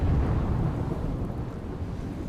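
Thunder rumbles with rain and strong wind during a Gujarat monsoon storm, a heavy, continuous low roar that stays loud for the whole stretch, with no voices.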